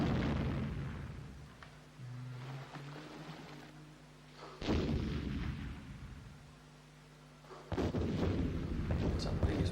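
Heavy explosion booms from a sinking ship in the CD-i Battleship video game, two loud blasts several seconds apart over a low rumbling game soundtrack.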